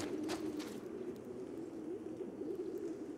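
Pigeons cooing in the video game The Last of Us Part II, a steady low murmuring coo running throughout the clip over faint ambient background, with a brief brighter rustle near the start.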